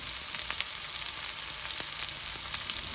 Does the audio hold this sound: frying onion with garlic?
yes